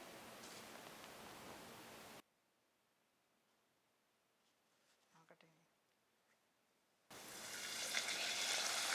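A biryani side dish sizzles in hot oil as it puffs up and crisps, a loud hiss that cuts out to near silence for several seconds before the frying returns even louder.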